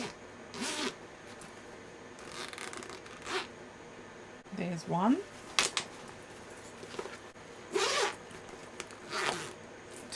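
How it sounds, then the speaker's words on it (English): A zipper pull is slid onto a backpack zipper during sewing, with several short, close zipping rasps spread apart and brief speech in between. "put your zipper pull back on"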